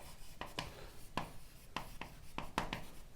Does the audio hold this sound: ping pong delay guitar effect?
no